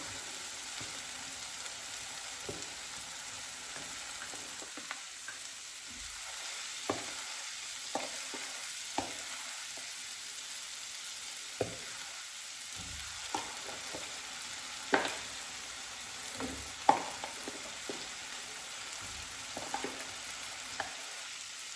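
Masala-coated chicken frying in a pan, a steady hiss of sizzling oil broken by occasional scraping and knocking as the pieces are stirred, with no voices.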